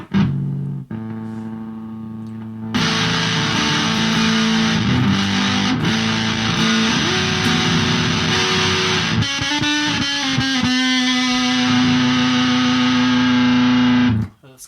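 Electric guitar played through a Pine-box Customs Fever Dream fuzz pedal with the gain raised a little: a single note, then loud, dense, sustained fuzzy chords and held notes with long sustain, ending abruptly.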